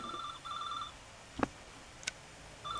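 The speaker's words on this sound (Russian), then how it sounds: "Он не перестанет звонить, пока не сниму трубку." In the horror video game Scholar's Mate, a telephone rings in repeated electronic bursts, fairly faint, broken by two sharp knocks or clicks.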